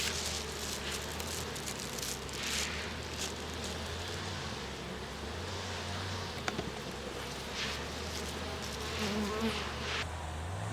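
Honey bees buzz densely and steadily at an open hive during end-of-season beekeeping, a close, continuous drone with occasional louder passes of single bees near the microphone.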